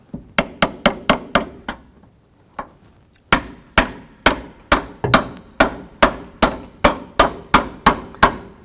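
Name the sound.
tapping a long extension to drive down a steering shaft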